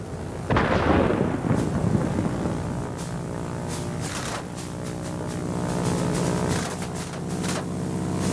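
Deep, rolling thunder from a heavy storm in a flight video game, a loud rumble swelling at the start and lingering as a sustained low roar, with scattered faint crackles.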